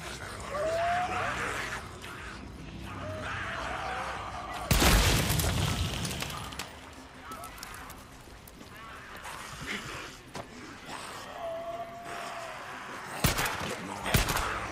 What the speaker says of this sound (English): Let's kite him into this explosion.